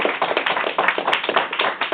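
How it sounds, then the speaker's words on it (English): A live venue audience claps for George, the host, at a performance night: quick, close, fairly loud hand claps in a dense, uneven patter that holds steady for the whole stretch. "clap one more time for George"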